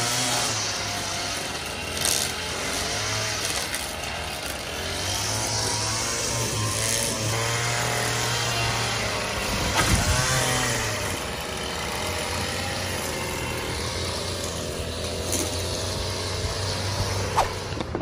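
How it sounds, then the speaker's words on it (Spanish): Grass being cut outdoors by workers with power equipment in a backyard, a steady droning engine whine that holds at moderate distance throughout, with faint clanks and rattles over it. "ya están allá afuera cortando el pasto."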